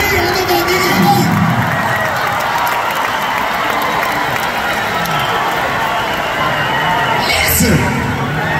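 Big outdoor amphitheater crowd at a concert in Virginia Beach applauding and cheering steadily throughout, a dense roar of clapping with scattered whoops and shouts, loud and continuous with a brief surge near the end.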